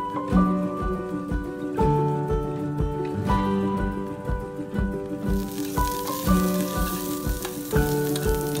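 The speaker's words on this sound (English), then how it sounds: "So I'm gonna fry this up." Breakfast food frying in a pan, with a steady close sizzle and crackle under intermittent clinks and scraping from stirring.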